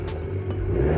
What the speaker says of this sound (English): that is where the great little induction noises come from